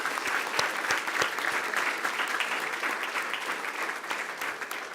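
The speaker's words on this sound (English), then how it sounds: "How about a round of applause?" Steady applause from a school board meeting audience honoring students recognized for superior ratings, with dense, even clapping that holds throughout.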